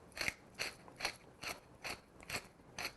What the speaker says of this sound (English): that's 10 turns of my mill, and I know my mill gives me a quarter teaspoon when I do that